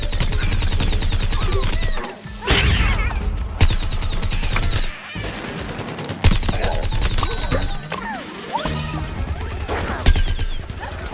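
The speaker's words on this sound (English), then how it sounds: "Here she is using her sunbeam ability, which is a rooted ability where she can't move" Dense, rapid bursts of blasts and crashing impacts from Sunflower's rooted sunbeam attack in Plants vs. Zombies Garden Warfare, running nearly continuously and loud with brief gaps, amid chaotic 24-player Team Vanquish battle noise.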